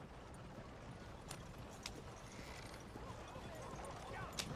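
Horse hooves clip-clop in Red Dead Redemption 2, a faint, steady rhythm under quiet ambience with a few sharp clicks, heard without any speech.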